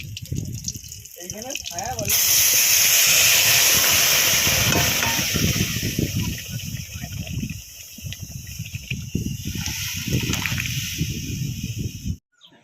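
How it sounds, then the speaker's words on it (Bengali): Boiled dal poured over hot oil and simmering, starting with a loud rushing sizzle and hiss that settles into a softer bubbling boil, with a person talking over much of it. "ডাল তেলের উপরে দিয়ে দু মিনিট ফুটিয়ে নিয়েছি"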